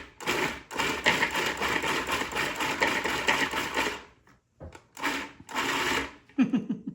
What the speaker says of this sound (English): But we'll just use the food processor there.